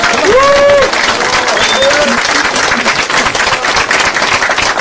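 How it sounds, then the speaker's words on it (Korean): An audience at a party anniversary ceremony breaks into loud, dense applause that carries on throughout, with a few voices calling out over the clapping. "박수와 환호를 보내주시기 바랍니다"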